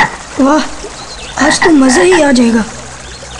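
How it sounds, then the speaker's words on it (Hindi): A frog croaks near a pool of water in two bursts of wobbling, rising and falling calls, close and loud, with someone speaking during it. "अरे, ये तो मेंढक की आवाज है।"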